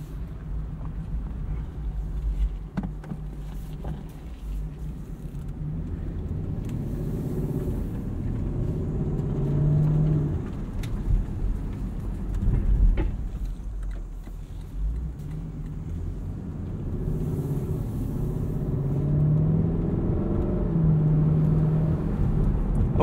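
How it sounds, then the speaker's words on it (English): A 2024 Lexus LC 500 Convertible cruises on the road, its engine a deep, steady rumble with gentle swells of acceleration and road noise throughout, heard from inside the car with no talking. "let's go drive this LC500 and see what it's like on the road."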